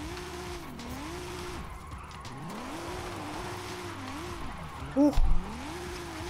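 Jeff Gordon's NASCAR stock car drifts in the Forza Horizon 5 racing game, its engine note rising and falling in repeated revving sweeps under steady tire squeal, with a brief exclamation from a voice near the end.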